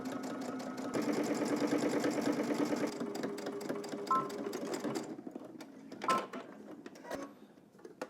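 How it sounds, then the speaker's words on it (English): A sewing machine edge-stitches a belt loop strip for baggy jeans, running in a fast continuous whir for a few seconds, then pausing and restarting in short bursts with clicks between. "we're going to head to the machine and stitch both sides down"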